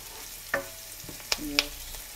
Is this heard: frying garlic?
yes